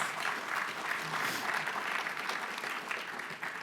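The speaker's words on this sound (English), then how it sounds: "So please give UTT a round of applause for all of that." Applause at a launch event fills the room, a steady, medium-loud burst of many hands clapping that carries evenly throughout with slight crowd noise beneath.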